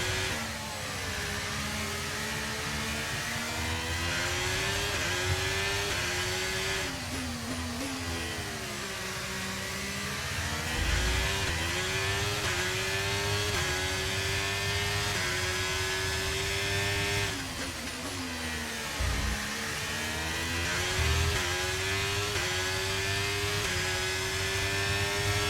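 High-revving F1 race car engine in the racing game F1 23 at the Brazil circuit, whining steadily close with repeated drops and climbs in pitch through gear shifts and corners.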